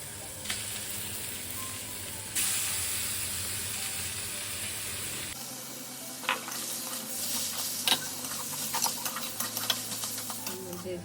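Fish goes into a pan with ginger and onion, producing a continuous close sizzle that shifts midway, followed by sharp utensil scrapes and clinks as the pieces are stirred.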